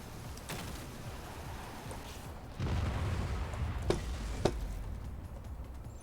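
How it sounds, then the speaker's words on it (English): Explosions in the video game Just Cause 4: a low rumbling blast swells midway and sustains, with two sharp cracks standing out near the end over a steady background din. "That explosion seems somewhat bigger."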